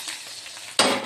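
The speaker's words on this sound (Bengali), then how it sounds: "তো এবার ডালটা সাঁতলে নেব।" Dal being fried in hot oil with reddened garlic, a soft steady sizzle that bursts into a loud, bright hiss near the end as the dal hits the pan.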